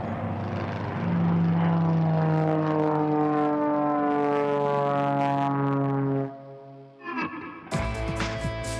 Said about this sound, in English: Runway 17 right, clear for takeoff.